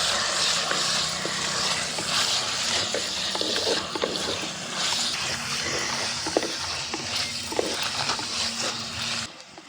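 Mutton pieces sizzle steadily in a hot pan with onions and green chillies for a drumstick curry, with a broad frying hiss and occasional scraping stirs and utensil clinks close by, ending abruptly.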